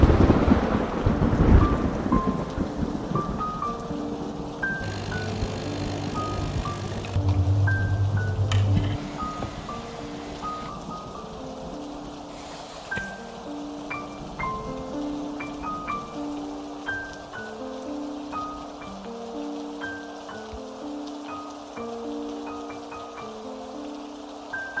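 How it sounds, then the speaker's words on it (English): Heavy rain pours at midnight as a steady, soft hiss with low rumbles, heard beneath a gentle tinkling melody that plays throughout. "it's raining so loud"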